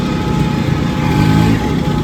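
A Yamaha motorcycle engine runs loud and steady nearby, a continuous low buzzing drone with a slight swell in the middle, no voices over it.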